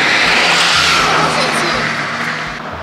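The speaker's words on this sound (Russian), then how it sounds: "Там машина." A car sweeps past on a street during a walk with a small dog: a loud, close broadband whoosh that slowly fades as it moves away, with a voice talking over it.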